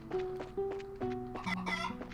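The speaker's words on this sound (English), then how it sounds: "Birds!" Chickens cluck in a quick series of short, close calls in the video game Trails in the Sky, with no talk over them.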